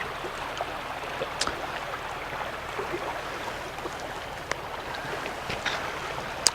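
Creek water runs right through the middle of a former campground in the Ya Ha Tinda, Alberta, making a steady, close rushing and burbling wash with a few small splashes and no talk.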